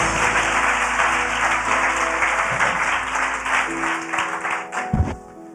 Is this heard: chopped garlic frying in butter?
no